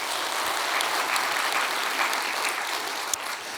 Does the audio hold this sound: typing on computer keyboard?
no